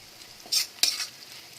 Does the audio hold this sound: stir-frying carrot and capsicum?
yes